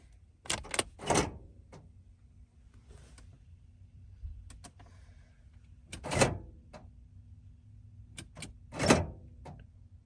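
Several sharp mechanical clunks of Sprinter van electric door locks engaging, in quick clusters separated by quiet pauses, fairly close and distinct.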